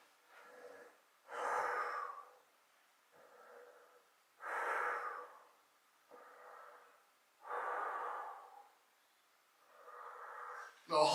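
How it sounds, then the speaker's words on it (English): Slow, deep breathing during a floor exercise in a forehead-down block position, with four loud exhales alternating with softer inhales in a steady rhythm, close and alone. "I'm going to breathe very deeply in order to help keep my abdomen, my belly relaxed"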